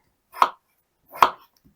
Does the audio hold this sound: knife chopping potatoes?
yes